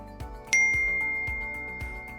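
A single bright notification ding rings out and slowly fades, heard over a soft, steady rhythmic music bed with no talking.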